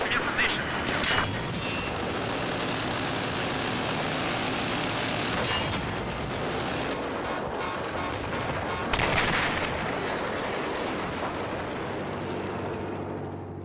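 An enemy airplane roars overhead in Battlefield 4, a loud, sustained engine drone mixed with bursts of gunfire and battlefield noise throughout, swelling briefly near the end.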